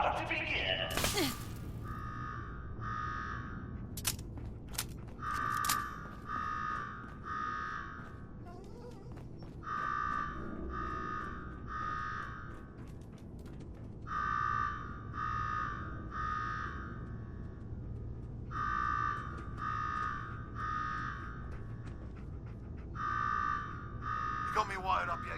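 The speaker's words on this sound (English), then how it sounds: "Now go shut off that damn alarm." An electronic alarm in Fallout 4's Nuka-World park sounds in repeated bursts of three or four beeping tones, evenly spaced, over a low background rumble with a few sharp knocks.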